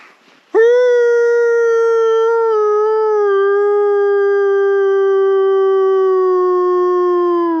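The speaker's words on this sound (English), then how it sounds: "I howled and he's howling back." A dog at an off-grid homestead lets out one long, loud, sustained howl close by, starting abruptly and holding a steady, slowly falling pitch for several seconds.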